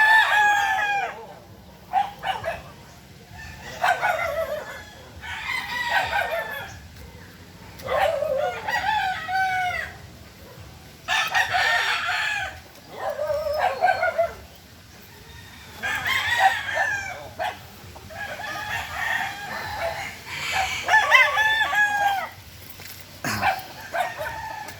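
Roosters crow again and again, several long calls from more than one bird at moderate distance over a steady outdoor background.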